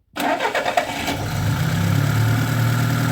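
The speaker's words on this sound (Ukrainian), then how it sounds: "Запускай мотор." A VAZ 21013 car engine cranks with a few quick chugs, then catches and settles into a loud, steady idle close to the listener.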